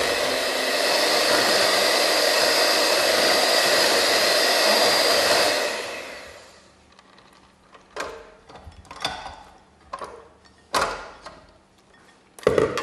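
An electric hand mixer with beaters runs loud and steady for several seconds before shutting off, followed by scattered clinks and knocks of kitchen handling in a home kitchen.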